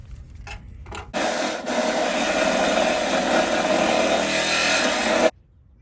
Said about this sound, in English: I just have a little bit more to cut, and I'll do it with my battery power Milwaukee